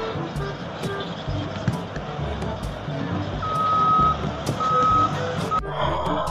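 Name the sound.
toy mining truck with reversing beeps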